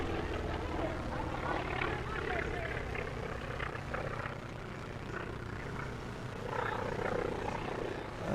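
A Texan II turboprop trainer flies past at an air race, its loud, steady propeller and engine drone filling the air throughout with a surging crowd-and-wind wash underneath, while people talk nearby.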